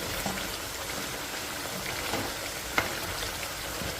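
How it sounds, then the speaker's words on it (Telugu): Chicken fries in oil on medium heat for a chicken pickle, giving off a steady, even crackling sizzle with a single sharp pop near the end. No voices are heard. "మీడియంలో పెట్టుకుంటే కనుక ఏంటంటే కంప్లీట్గా ఫ్రై అవుతుందండి నాన్ వెజ్ కాబట్టి మంచిగా ఫ్రై చేసుకోవాలి"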